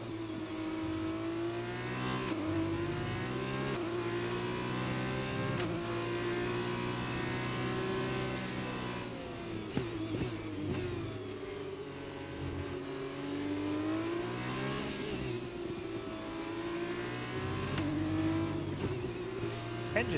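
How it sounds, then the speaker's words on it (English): F1 cars in the video game F1 2021, believed to run V6 turbos, scream through continuous rising and falling engine tones as they shift gears and lift off, loud and unbroken throughout. "Engines actually sound alright."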